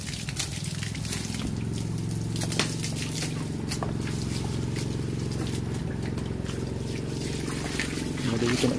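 Water runs steadily while a fish pond is being cleaned, a continuous close trickle and splash with low rumbling underneath, and someone talks over it throughout.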